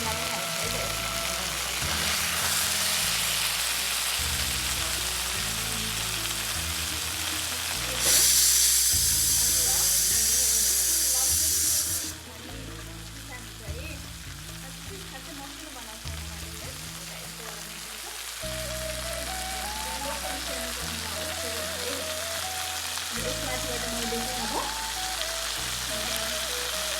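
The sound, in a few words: garlic, ginger and chili paste frying in pan for mutton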